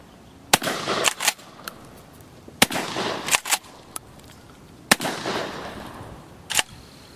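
A 12-gauge shotgun fires a combined birdshot and buckshot load outdoors. Four loud, sharp blasts come about two seconds apart, and each is followed by a short crackling tail and brief mechanical clatter.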